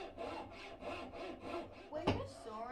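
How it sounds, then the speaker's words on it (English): Coping saw cutting wood in a carving lesson, a steady rhythmic back-and-forth rasp of about seven close strokes, with a sharp knock near the end. "When you're sawing with a coping saw, you just want to pretty much just roll your hand"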